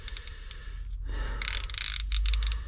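Rapid metallic clicking of a 3/8 drive torque wrench ratcheting, close up, in two quick bursts of fine repeated clicks with a brief pause between.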